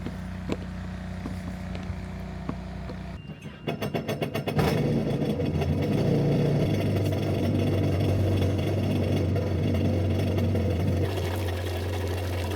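A Yamaha 1.8L jet boat engine turns over and catches, then settles into a steady, loud idle with water rushing through it during a flush, following a few seconds of quieter background.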